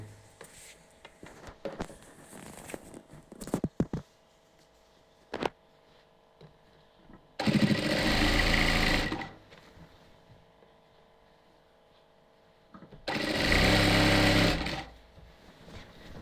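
A sewing machine stitches a ready-made nighty in two loud, steady runs of a few seconds each, with quieter handling clicks and fabric movement between them.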